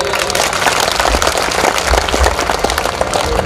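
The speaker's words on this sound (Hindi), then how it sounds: "ताली बजाओ एक बार।" An audience clapping at a devotional gathering, dense steady applause from many hands, loud and close throughout.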